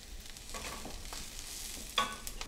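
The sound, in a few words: collard greens cooking in a pan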